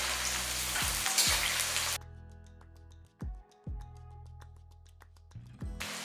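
Shallots, garlic and a dried chili frying in sesame oil, giving a close, bright sizzle with stirring scrapes. The sound drops to a quieter sputter and then returns loud near the end.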